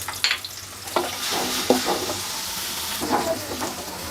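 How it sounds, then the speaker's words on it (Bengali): Onions and large green chilies with a little salt frying in a pan, a soft steady sizzle with a few stirring scrapes and clinks. "আর একটু লবণ দিয়ে এটাকে ভালোভাবে ভেজে নিব।"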